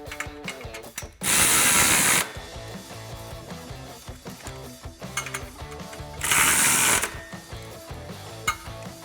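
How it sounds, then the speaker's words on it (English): Ratchet socket wrench with 16mm and 15mm sockets tightening exhaust flange bolts on a 2019-2022 RAM 1500 5.7L performance muffler, quick metallic clicking in bursts with two loud hissing stretches between. "with a 16mm socket for the bolt side and a 15mm socket for the nut side, I can go ahead and tighten down these two bolts here at the flange"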